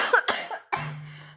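A single person coughs twice in quick succession, loud and close, followed by a short voiced sound trailing into a low hum.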